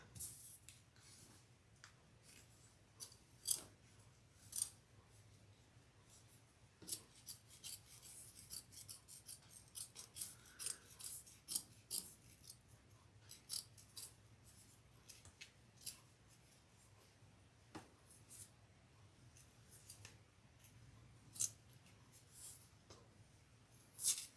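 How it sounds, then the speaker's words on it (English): Good scissors snip and rasp through fabric in steady intermittent strokes while a crossbody bag is being sewn, close and quiet, with no talking. "I always forget to use my good scissors for this."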